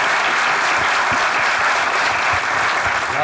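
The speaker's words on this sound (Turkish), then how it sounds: "Tekrar alkış. Bravo. Bravo." Loud, dense studio audience applause during a Turkish comedy sketch show, a steady roaring wash of clapping that fills the whole stretch without a break.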